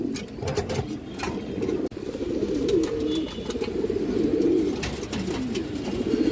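A pair of silver pigeons coos continuously and close by in soft, throaty, repeated calls, with light flapping and other bird chatter around them.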